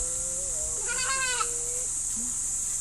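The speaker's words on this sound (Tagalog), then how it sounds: "Yung mga maamong kambing" Tame goats give one clear, wavering bleat with a second shorter cry rising over it, followed by a brief low call, all close by against steady outdoor background hiss.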